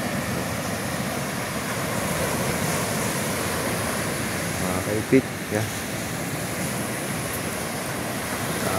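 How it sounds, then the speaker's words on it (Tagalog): Large sea waves break on the shore in a steady, loud roar that fills the whole stretch, while someone talks briefly over it. "Ang problema lamang ay alon, malaki ang alon sa tabi"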